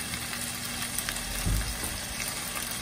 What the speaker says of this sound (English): garlic is starting to brown